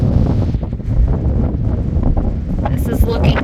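Gusty wind with light rain buffets the microphone in a loud, continuous rumble, with faint rustling and patter on top, on the north side of Copco.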